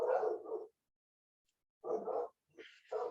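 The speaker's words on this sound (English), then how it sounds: "the dogs are just making a bit of a noise there" Dogs barking in short bursts, two or three clusters of loud, close barks separated by a pause of silence, with a higher yelp near the end.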